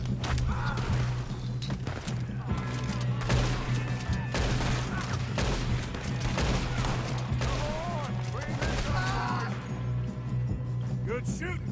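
Gunfights in the western game Red Dead Redemption 2 rattle on continuously, with repeated rifle and pistol shots over a steady background hum while voices talk and shout between the bursts.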